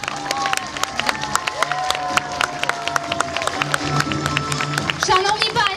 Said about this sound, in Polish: Ogromne brawa dla nich.